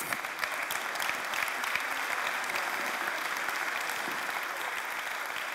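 An audience claps for a minister at a plenary session of a French trade-association conference, with steady, dense applause sustained at an even level throughout.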